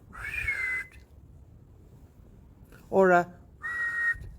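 A person whistles three short, clear notes with long pauses between them in a quiet room. A brief voiced sound is mixed into the middle whistle.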